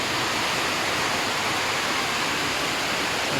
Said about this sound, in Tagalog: Lumakas pa talaga yung ulan.